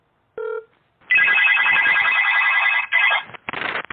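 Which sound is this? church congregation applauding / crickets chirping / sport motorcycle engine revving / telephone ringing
telephone ringing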